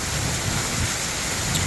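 Steady rain falls over a Punjab village, a dense even hiss of drops on rooftops and open ground that continues without a break, moderately loud and heard alone.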